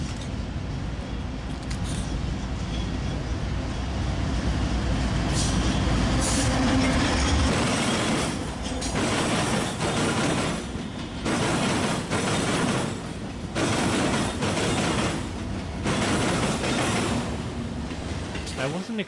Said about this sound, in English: the last train to close off in the state of Illinois was the BNSF eastbound intermodal